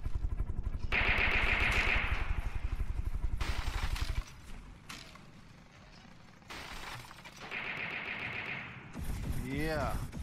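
Naval gunfire in the From The Depths video game, small ships firing on a larger vessel, with repeated loud rapid bursts and impacts, pauses between volleys and a rising mechanical sweep near the end.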